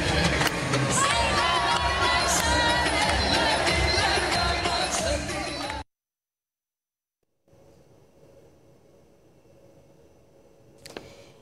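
Arena crowd roars and cheers as the Turkish national women's volleyball team celebrates its championship after captain Eda Erdem Dündar lifts the trophy; dense, loud crowd noise fills the first half, then cuts to near silence with faint background murmur.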